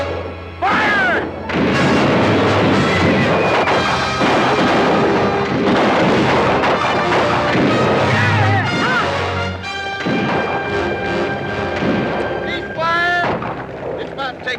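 Gunfire and explosions in a Western movie cavalry battle, dense repeated rifle shots and booming blasts over fourteen seconds, loud and continuous with horses and shouting voices mixed in.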